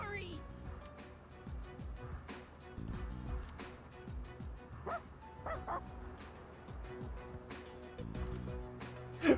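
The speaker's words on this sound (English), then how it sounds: "Koromaru's trying to reason with the stray dog." Dogs in the video game Persona 3 Reload, a dog and a stray dog, yipping, barking and whimpering in short repeated bursts, heard under a person talking over the game.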